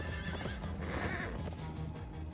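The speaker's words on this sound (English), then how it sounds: "Horses with saddles." A horse whinnies in a video game, one drawn-out neigh over a steady, low background hum, faint and with no talk.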